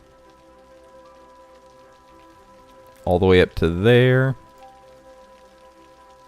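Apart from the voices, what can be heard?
rain in the video game Cities Skylines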